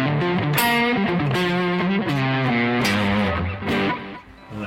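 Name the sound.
electric guitar played through Marshall amp tones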